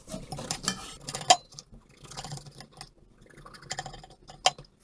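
A knife slicing through washed lemons on a cutting board, giving soft irregular cuts with a few sharper clicks of the blade against the board, close and fairly quiet, with no talking.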